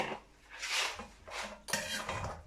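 Broccoli and cauliflower florets tipped into a pan and stirred, giving soft scraping, rustling and clinking sounds in a few short bursts, close and fairly quiet, with no talking.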